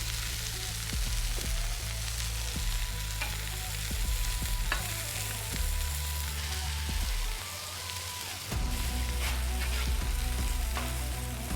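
A smash burger patty fries in oil on a hot griddle, a continuous close loud sizzle with a few scrapes and stirs, the tone dropping briefly before the hiss resumes.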